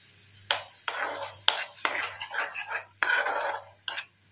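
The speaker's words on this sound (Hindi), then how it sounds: "इसको थोड़ा मैं अभी चम्मच से चला रही हूँ" A spoon stirs urad dal in a pot, making about seven sharp clinking scrapes in an uneven rhythm, close and clear, with soft wet swishing between the strokes.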